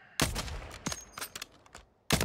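Gunfire in Warzone 3 rings out as a quick string of sharp shots, with a final loud report after a short pause. The shots are fairly loud and no one talks over them.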